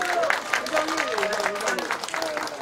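Audience at a market-street signboard renovation ceremony applauding: a short burst of steady clapping from a crowd, with a voice talking over it throughout.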